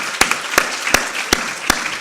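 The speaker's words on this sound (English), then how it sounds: "let's have another round of applause for Paul and the team being part of it" Another round of applause for Paul and the team at a patient advocacy summit, heard as five loud, evenly spaced sharp claps close by over a faint background murmur.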